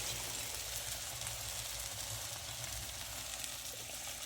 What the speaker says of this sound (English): Turn my heat down and let this simmer until most of this liquid is absorbed.